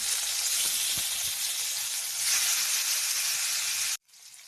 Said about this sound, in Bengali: এবার এক এক করে সবগুলো মাছ কড়াইতে দিয়ে দেবো